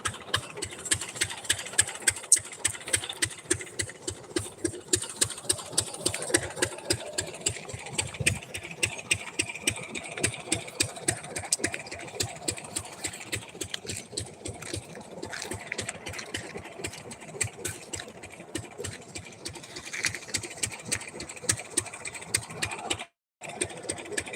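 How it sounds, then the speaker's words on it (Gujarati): A tractor engine idles and chugs steadily as it hauls a new farm machine, a fast, even mechanical knock running throughout at moderate distance, with no talk. "આપણું મશીન હવે ટ્રેક્ટરમાં આવી રહ્યું છે"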